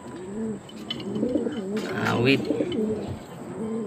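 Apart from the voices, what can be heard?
racing pigeons cooing in loft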